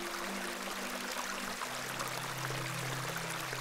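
A steady rushing stream of icy water in the Excavation of Hob's Barrow adventure game, a continuous broadband flow with trickling texture, fairly close and alone, with no talking.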